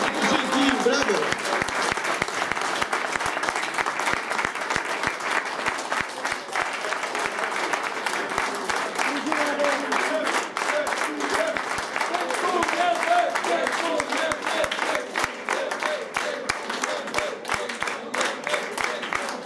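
Sustained audience applause at a Christmas show in Miastko, Poland, with dense, steady clapping from a large crowd filling the room and carrying on without a break.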